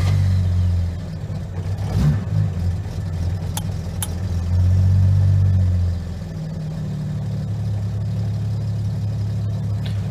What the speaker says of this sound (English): Ignition on, and choke is in run.